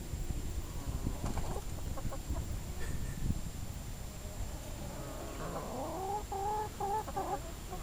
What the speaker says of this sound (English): Friendly chicken.